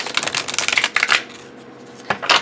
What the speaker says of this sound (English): I riffle shuffle my decks